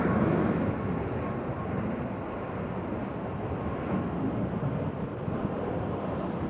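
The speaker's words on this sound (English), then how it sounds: "So they're now doing takeoffs on 20 left." An airliner taking off from runway 20 left at Nashville International Airport, a loud, steady, broad engine roar heard from a distance, continuous throughout with no talk.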